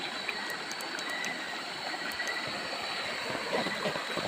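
Steady broadband rush of flowing river water, continuous and fairly even, with no voices.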